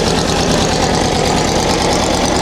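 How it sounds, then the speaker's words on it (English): A Volkswagen Baja Buggy engine idling roughly, with a loud, steady, close rumble and a fast uneven knocking pulse from strong vibration, heard alone without voices. "Okay, so we're idling. The engine is vibrating like crazy."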